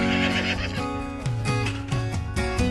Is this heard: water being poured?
no